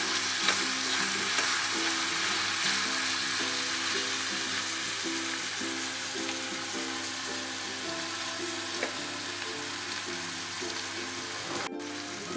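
Shallots sautéed with salt in a pan for a chicken roast make a steady soft sizzle and hiss, with a low mechanical hum beneath and a sharp clack near the end; no speech.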